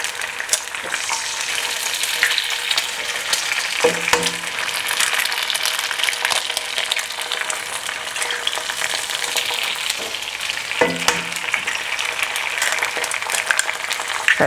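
Four eggs frying in a hot pan give a steady, close crackling sizzle that runs the whole time, with a few brief clinks of utensil against pan and no talking.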